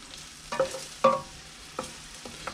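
Onions and garlic sautéing in butter in a pan for risotto, with a few soft stirring scrapes and light clatters spaced across a quiet, faint sizzle.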